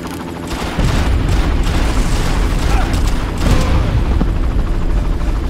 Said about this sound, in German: den Hubschrauber können wir irgendwie gar nicht abschießen